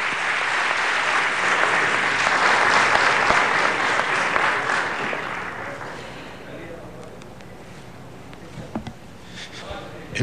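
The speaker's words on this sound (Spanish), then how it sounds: "Un aplauso fuerte para Thalía y su gran esfuerzo." Loud, sustained applause from a crowd at a Peruvian university scholarship ceremony where the president awards full scholarships, clapping dense for about six seconds before thinning out into scattered claps and room noise.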